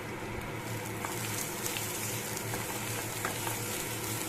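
Grated coconut and green chilies stirred in a hot pan, a steady close sizzle of frying with faint scraping stirs throughout, no talking.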